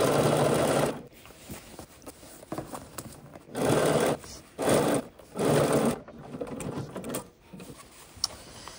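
Domestic sewing machine stitching the side seams of pants pocket pieces, running in several bursts of steady whirring with short pauses between them as the fabric is pivoted, close and moderately loud.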